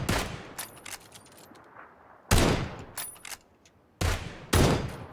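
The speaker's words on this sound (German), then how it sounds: "Ey, ich schieß grad gnadenlos hin." Winchester rifle shots in a video game, several loud sharp cracks spaced unevenly across the stretch, each with a short ringing tail, no talking.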